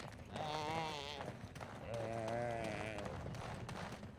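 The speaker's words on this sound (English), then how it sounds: "What lovely sheep noises." Sheep in the video game Dragon Age: Origins give two drawn-out, wavering bleats close by, one after the other, over a faint game background.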